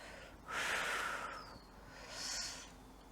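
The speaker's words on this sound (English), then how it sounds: "Nice and deep inhales, nice slow controlled exhales." Deep controlled yoga breathing: a long broad inhale rushes in near the mic, followed by a softer, slower exhale, two quiet airy breaths with no talk.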